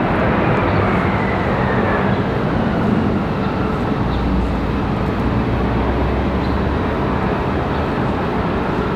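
A CRJ regional jet at Raleigh-Durham International Airport gives a loud, steady broadband jet roar that holds evenly throughout, with no talk over it.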